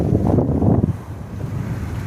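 Big waves driven by a strong southeast wind crash on the black-sand shore of Lake Nipigon, with a loud, continuous roar of wind buffeting the microphone and surf rumbling close by.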